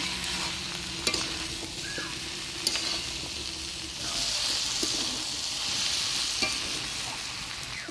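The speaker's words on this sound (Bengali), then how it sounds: "এবার সিদ্ধ করে রাখা মটরগুলা দিয়ে দিব। মটর দিয়ে মশলার সাথে হালকাভাবে নাড়াচাড়া করে নেব।" Boiled peas stirred with spices and goat fat in a pan for a village-style ghugni, a steady close sizzle that swells in the second half, punctuated by occasional spoon scrapes and taps.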